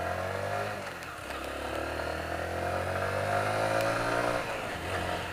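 Motorcycle engine of a Yamaha YBR revving steadily under throttle while riding on Hayling Island, a continuous loud drone whose pitch rises and shifts through the ride.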